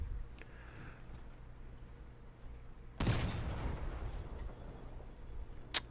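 A burst of gunfire shooting at a soccer ball in a vehicle-building game, a sudden loud rattle of shots midway after quiet background hum, then a brief sharp sound at the end.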